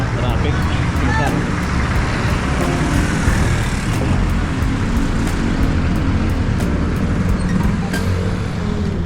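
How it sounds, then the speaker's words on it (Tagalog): Steady, loud road traffic roars past a rider on a Japanese bike on a main road, with engine and wind noise filling the whole stretch without letup. "Ayan, traffic."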